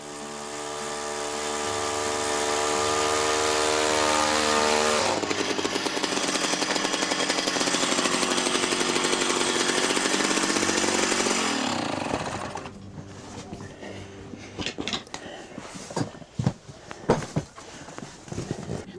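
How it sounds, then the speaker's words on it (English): A gas-powered ice auger drills a hole through lake ice in Wyoming, revving loudly and steadily for several seconds, its pitch shifting as it bites through. The motor then cuts out, leaving clattering, knocking handling sounds. "I'll grab the auger and I'll go out about 10 feet, and then I'll drill a hole to check to see how thick the ice is"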